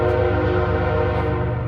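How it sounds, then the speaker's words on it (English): A train passes nearby outside a workshop, its loud sustained horn tone dominating the moment, with steady rumble underneath and no talking. "I think I hear a train."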